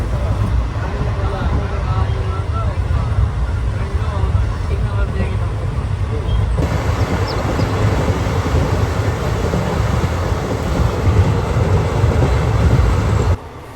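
Harihar–Hospet passenger train running, a steady loud rumble and rattle of the rail carriages throughout with constant broadband noise, ending abruptly near the end.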